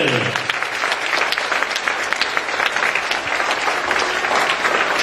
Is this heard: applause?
yes